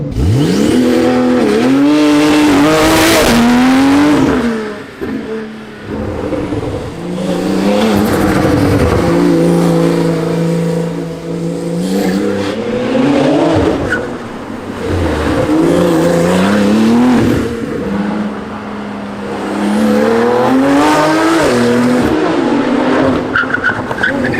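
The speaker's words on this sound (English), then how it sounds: "Big Porsche brake area, ABS, I'll use all of it" A Porsche sports car of roughly 700-plus horsepower is driven hard on a track, its engine roaring and revving in loud sustained bursts, with tires squealing and skidding through braking and cornering, close and continuous throughout.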